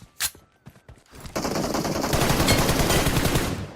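Rapid machine gun fire from a mobile video game, a few scattered shots and clicks at first, then a loud, continuous rattling burst of automatic fire that holds to the end.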